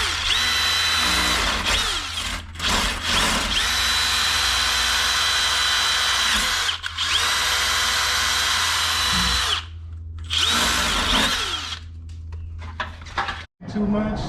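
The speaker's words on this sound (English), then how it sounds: "now the pipes are going to get secured to the wall studs" Bursts of a power drill run while pipes for a water heater supply line are fastened to wall studs, several long whirring runs broken by short pauses, loud and close, with people talking in between.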